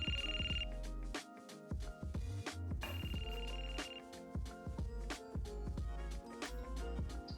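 Outgoing phone call ringing through Shokz OpenDots One open-ear headphones, with a repeated ringtone pattern over a steady rhythmic backing, fairly quiet and without talking.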